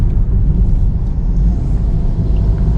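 A car engine downshifting into third gear while braking gives a loud, close, continuous low rumble with road noise, steady throughout, no talking.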